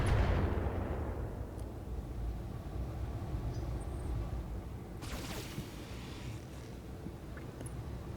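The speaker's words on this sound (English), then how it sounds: "So we take a bit more LRM fire from that turret." In the Battletech video game, a turret fires LRM missiles, giving a heavy boom at the start that rolls into a low rumble, then a sharper burst of impacts midway, with a dull background roar throughout.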